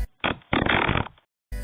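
A drive-by fart sound effect from a smartphone fart app plays as loud, close, sputtering bursts, one brief blast followed by a longer rippling one, then a cut to another sound.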